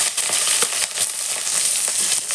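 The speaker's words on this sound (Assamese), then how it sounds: "পিঁয়াজখিনি অকণমান ৰঙচুৱা হোৱালৈকে ভাজি ল'ম।" Onions fry in a hot pan at the start of a pork and taro-leaf dish. A loud, continuous sizzle runs throughout, with scattered clicks from stirring close by.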